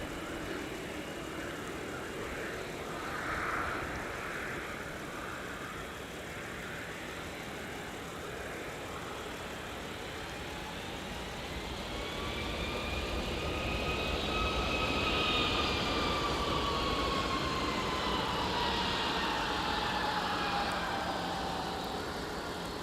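Aircraft engines rumble and whine at MSP Airport on a cold winter day, a broad steady roar that swells louder in the second half as rising and falling turbine tones sweep across, with no voices.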